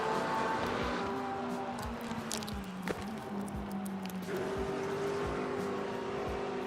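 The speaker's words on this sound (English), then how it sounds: "There's a hypercar behind you, Jim." Hypercar racing engines in the Le Mans Ultimate sim at Interlagos, a steady near engine drone with pitch rising and falling through gear changes, plus a brief whoosh of a car passing.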